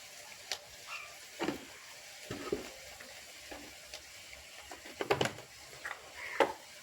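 Mustard oil poured into a hot pan crackles and sizzles in a few scattered bursts, with light clinks and stirring noises over a low, steady kitchen background.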